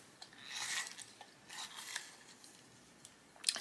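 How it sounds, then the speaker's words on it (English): A burnt sienna colored pencil is sharpened, giving short, close, quiet rasping grinds in a few brief bursts with pauses between. "just going to sharpen it a little bit"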